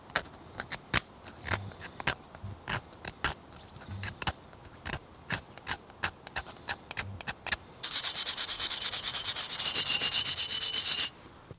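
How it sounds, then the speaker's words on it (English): A rough scouring pad scrubs rust and crust off antique stoneware pottery in a quick series of sharp rubbing strokes, followed by a louder, steady stretch of continuous abrasive scouring near the end. "we're just going to use a pretty rough and fresh scouring pad to try and remove the bulk of the rust"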